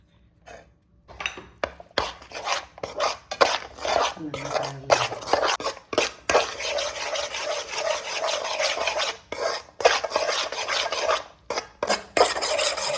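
Powdered almonds are worked by hand into a mixture for Thiruchendur prasadam thirupagam sweet, making a continuous close rasping, scraping rub with brief pauses.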